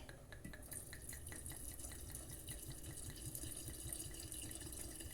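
Homemade cherry liqueur trickles into a bottle, a faint steady pour with small drips and glassy splashes, quiet and without talk.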